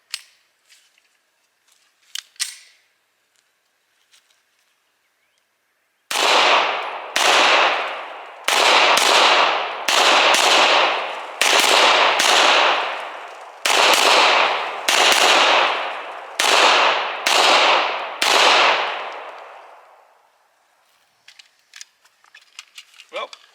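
A Beretta M9A4 pistol fires the rest of a magazine at close range, about a dozen loud, sharp shots in an uneven rhythm with short pauses, followed by quieter handling noises.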